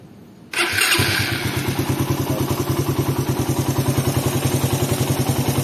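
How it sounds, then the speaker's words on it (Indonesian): A Suzuki Satria FU motorcycle fitted with a PE26 carburetor starts up and settles into a steady, rhythmic idle with a pulsing exhaust beat, loud and close, with no talking. "Irama mesinnya beda kan? Irama mesinnya lebih merdu ya, lebih stabil."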